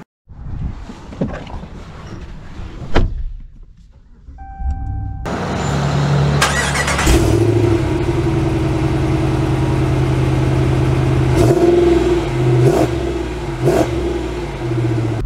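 A 2024 Ram HD pickup truck engine starts after some clicks and thumps, then rumbles steadily and revs up as the truck accelerates, loud and close throughout.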